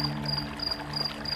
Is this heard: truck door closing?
no